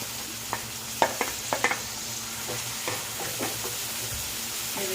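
Chopped capsicum and finely cut onion fry in a pan for street-style pav bhaji, a steady sizzle broken by a few sharp spatula stirs and clacks near the start, then softer scraping.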